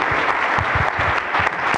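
Brief, loud applause from an assembly audience of community leaders for a speaker, a dense burst of clapping with a few low thumps mixed in.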